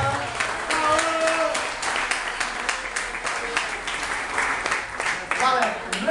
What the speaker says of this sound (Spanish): El aplauso para Lolo, por favor